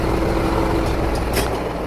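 Engine of an X5000 dump truck idling close by, a loud steady low diesel rumble with a faint hiss partway through, no talking.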